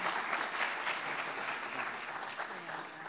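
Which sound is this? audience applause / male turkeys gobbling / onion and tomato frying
audience applause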